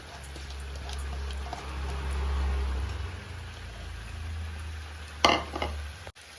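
Chicken fries in a pan with tomato gravy, giving a soft, low bubbling sizzle, with a few sharp clinks of a utensil against the pan near the end.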